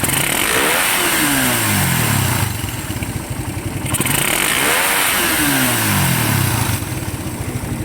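A motorcycle engine running close by in neutral, rising and falling in repeated revving swells with a lingering whine as it settles at low idle, no talking.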